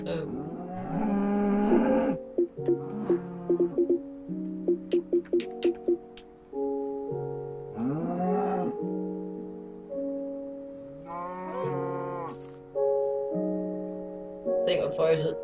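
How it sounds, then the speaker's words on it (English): Blocky cows in Minecraft on Xbox give repeated low, drawn-out moos, several in a row with short gaps, close and loud, with brief clicks and game noises between them. "Cow."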